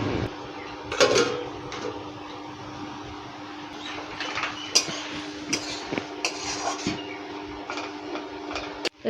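A pot lid and cookware clatter sharply several times in a kitchen over a low background hum, a few distinct metallic knocks and scrapes.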